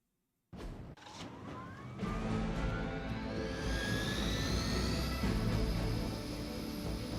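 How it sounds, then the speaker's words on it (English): A Hydra helicopter's engine spools up in the Marvel's Midnight Suns video game, its whine rising in pitch over a loud, steady rotor-and-turbine roar that holds for several seconds without talk. "Disable the Hydra helicopter before it can depart."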